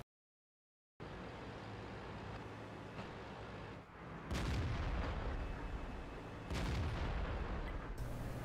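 Tank cannon fire and explosions in a tank video game, with heavy booms over a rumbling engine bed and two louder blasts after the first few seconds of quiet.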